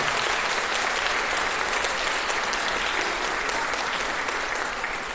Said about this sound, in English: Can we have one more round of applause for our student speakers?